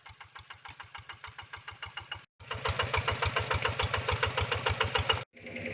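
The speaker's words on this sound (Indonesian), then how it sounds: "saya baru tahu kalau mesin bajak sawah ini nggak ada remnya" A rice-field plough tractor engine chugs in a steady rapid knocking rhythm, close and fairly loud, briefly cutting out twice and resuming, with no voices.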